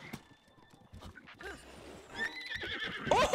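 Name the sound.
horse whinnying in video game Zelda: Breath of the Wild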